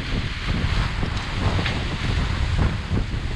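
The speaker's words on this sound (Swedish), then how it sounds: "Så fortfarande rätt så höga vågor." Wind rushes steadily over a sailboat at sea at night while high waves, around two metres, wash and slap against the hull in a continuous loud roar with no talking.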